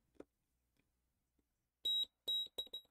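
Electronic beeps from a continuity tester probing wiring on a split-flap display build, several short loud tones in quick succession after a quiet stretch with faint handling noises.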